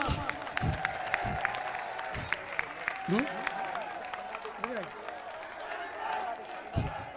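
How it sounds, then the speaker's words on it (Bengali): An audience at a public reception rally in Charfashion claps and cheers, a continuous dense patter of applause with some shouts rising through it. "তাদের সম্মানে আপনাদের কাছে একটি করতালি আমি আশা করছি"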